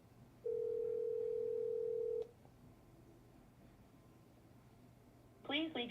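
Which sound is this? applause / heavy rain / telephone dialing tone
telephone dialing tone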